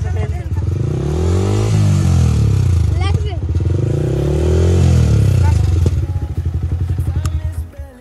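Motorcycle engine with an aftermarket exhaust revving loudly up and down in two long swells close by, the tone rising and falling, then settling into a rough, pulsing idle; voices talk over it at times.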